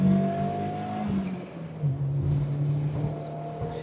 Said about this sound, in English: Hear those turbo spool.